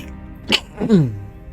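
A single short human sneeze, a sharp breathy burst followed by a voiced, falling tail, heard close and alone.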